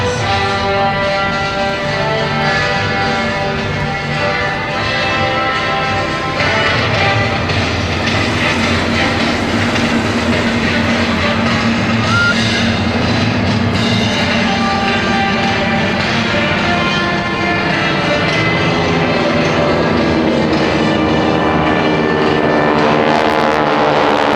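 GEICO Skytypers vintage aircraft flying a fan pass at the 2011 Blue Angels Homecoming airshow, a loud sustained droning engine roar that stays strong throughout and shifts slightly in pitch as the planes pass.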